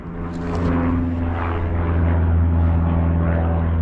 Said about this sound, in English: there goes another Cessna